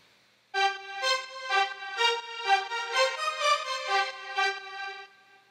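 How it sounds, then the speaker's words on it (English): An old-school string preset on a Nexus synth plays Mellotron-like strings for a disco house remix. Sustained, swelling chords move through several changes for about five seconds with no other sound, then fade out. "I used Nexus with old string preset that sounds like this."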